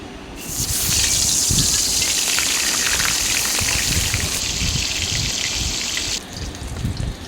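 Steady, loud sizzling of marinated bata fish frying in hot oil in a kadai, a dense crackling hiss that runs for several seconds before easing off near the end.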